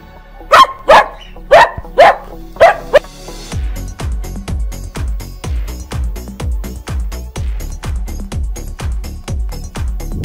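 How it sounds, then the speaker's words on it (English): A dog barks loudly and close by, about five sharp separate barks at first, then a long fast run of rhythmic, regular bark-like pulses that carries on to the end. "Dog. This is dog."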